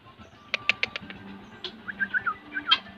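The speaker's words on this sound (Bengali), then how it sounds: "এই হরিণ ছানার পরে এখন দেখতে যাব যে তিতির পাখি, খুব সুন্দর দেখতে পাখিগুলো।" Grey partridges calling at a historic lakeside park in Dinajpur, Bangladesh: a quick run of sharp, clipped calls followed by several brighter chirps, fairly close and clear over faint background noise.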